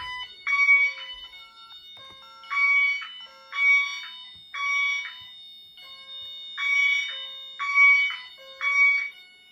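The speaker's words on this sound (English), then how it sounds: "Bedroom. Smoke detector." A bedroom smoke detector shrills in repeated loud electronic bursts during an alarm system test, about seven pulses with short gaps, sounding alone in a quiet room.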